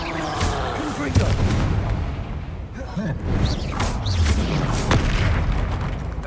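Confringo fire spells in Hogwarts Legacy go off as repeated booming blasts with crackling bursts over game effects and music, while a player speaks throughout and calls out the spell names.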